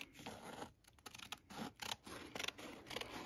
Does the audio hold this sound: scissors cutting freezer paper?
yes